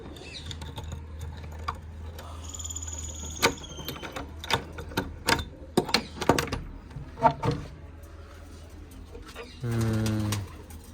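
Pairs of large loft pigeons coo softly and steadily in the background, mixed with a run of sharp clicks, taps and wing flutters. A louder burst of cooing or flapping comes near the end.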